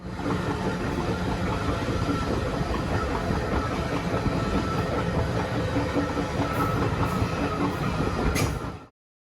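A passenger train in Alaska rolls along the tracks out of Anchorage, heard from the rear car as a constant loud rumble with rhythmic rail clatter that cuts off abruptly at the end.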